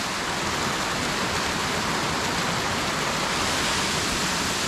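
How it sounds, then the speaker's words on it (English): Apataclo Falls in Mexico, where the water splits into two falls, roars as a steady, dense, unbroken wash of falling water, loud and close with no other sounds. "It's really unique how the water is kind of split into two falls."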